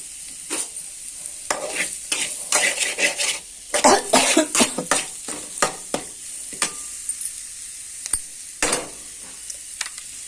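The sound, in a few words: egg frying and sizzling in a pan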